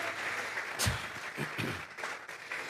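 Steady applause from a church congregation fills the room, holding at an even level throughout, with a few louder thumps mixed in.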